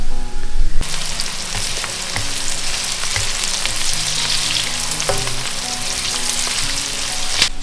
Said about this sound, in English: So while your onions are cooking,